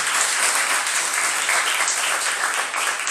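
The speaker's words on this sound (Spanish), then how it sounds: "Un aplauso al Señor aquí." A church congregation gives a short round of applause during a Spanish-language sermon, a dense, even patter of clapping lasting a few seconds with no voices over it.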